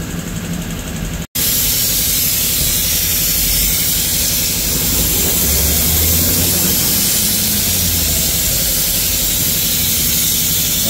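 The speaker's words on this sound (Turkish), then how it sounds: "Şimdi bunu kardeşimiz ilaçla güzelce köpükle yıkayacak." Pressurised foam detergent spray hisses steadily and loudly, up close, over the engine bay of an Opel Insignia with a 1.6 engine, after a brief cut near the start.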